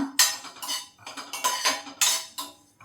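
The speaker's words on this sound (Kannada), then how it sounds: "ಸೊ ಈ ಥರ ಡ್ರೈ ರೋಸ್ಟ್ ಮಾಡ್ಕೋಬೇಕು" Sesame seeds dry roasting in a pan, a run of close, bright metallic scrapes and rattles as a spoon stirs them, one after another with no talking.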